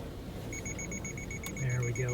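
Subaru Outback XT Onyx Edition's EyeSight driver-assist beeps a warning as it detects weeds during off-road X-Mode driving, a fast string of faint, high electronic pips over a low engine drone, with a person talking near the end.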